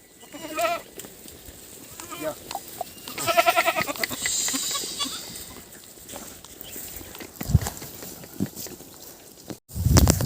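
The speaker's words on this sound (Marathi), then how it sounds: "आपण आहे आता मेंढ्यांमध्ये बघू शकता मित्रांनो" Sheep and goats bleat repeatedly from a flock, some close and some farther off, amid rustling and occasional hoof clatter.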